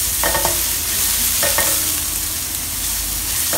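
A garlic and shallot mixture with light soy sauce, sesame oil and sugar sizzles steadily in a pan while a utensil scrapes and stirs in a few short strokes, close up with no voices.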